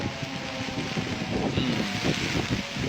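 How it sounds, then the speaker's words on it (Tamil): Strong wind in Switzerland buffets the microphone in steady, roaring gusts, with a low rumble underneath and no voices. "காற்று நல்லா காற்று அடிக்குது"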